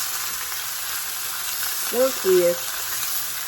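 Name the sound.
thin sliced meat frying in a pan for cheesesteak casserole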